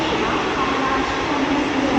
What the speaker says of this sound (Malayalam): അങ്ങനെ നമ്മൾ ട്രെയിന് വന്ന്, ഈ ട്രെയിനിൽ കയറുന്നില്ല.